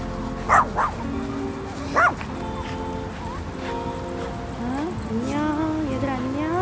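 Small dogs at a Jindo dog family's home bark in a few sharp bursts, then yip and whimper in rising whines, close by under faint talk.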